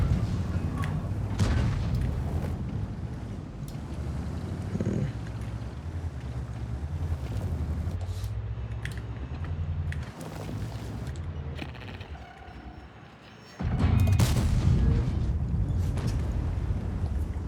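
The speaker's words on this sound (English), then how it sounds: "Got artillery shooting at me, good stuff." Artillery shells strike and burst around a tank in World of Tanks, heavy booming impacts over a constant rumbling engine drone, with a sharp loud hit near the end.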